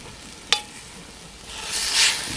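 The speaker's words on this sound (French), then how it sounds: "j'ai mis bouillir donc de l'eau là-dedans" Water boiling in a pot to sterilize jars: a quiet hissing bubble that swells louder toward the end, with one sharp click early on and no talking.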